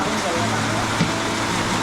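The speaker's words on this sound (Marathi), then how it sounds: "आता पाऊस काय थांबत नाही अजून" Heavy rain falling steadily around a village temple in the forest in Konkan, a dense, even roar with no breaks, close and loud.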